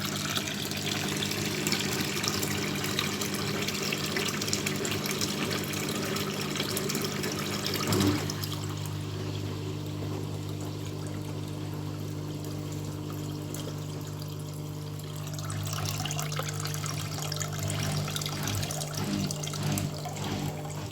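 Scrap washing machine's pump running during a rinse cycle, a steady low hum with rushing, trickling water over it, fairly quiet and unbroken.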